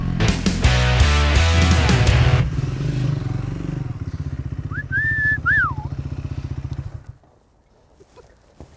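Triumph Scrambler 400X motorcycle riding, with a loud close engine rumble and revs that fade into a lower pulsing drone before dropping off near the end. A short whistle sounds in the middle.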